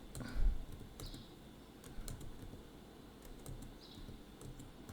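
Faint, scattered key clicks from a computer keyboard while a description is entered into a Marketing Cloud data extension, soft and close under a steady low room hum.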